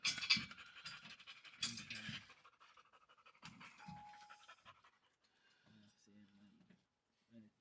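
A puppy pants in quick bursts near a pickup truck hitch being installed on a 2022 Nissan Frontier, loud early on and then fading, with people talking quietly in the background.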